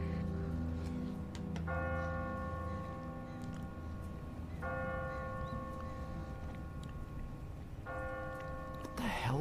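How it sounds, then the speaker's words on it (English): A loud bell in The Walking Dead video game rings out in three separate tolls a few seconds apart, each hanging over a faint, murky game ambience. "There's a fucking loud-ass bell that's ringing!"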